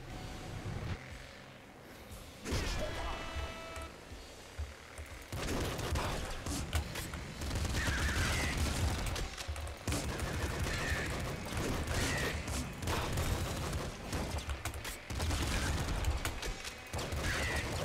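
Rapid bursts from a triple machine gun in the top-down shooter Nuclear Throne, dense overlapping shots rattling on and off for long stretches, mixed with game effects and crashes at moderate level.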